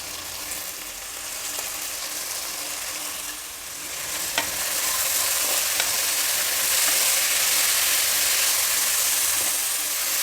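Mixed sprouts, including chickpeas and cowpeas, sizzle and fry steadily in hot oil tempering, with the occasional scrape or stir of a spoon and a hiss that grows a little louder partway through, heard alone and close.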